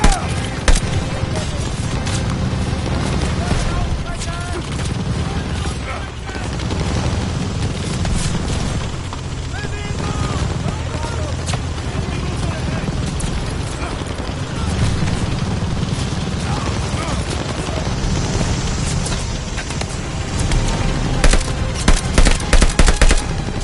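Sustained machine gun fire and explosions in the World War II shooter Call of Duty: Vanguard, loud rapid bursts mixed with booms and shouted voices throughout.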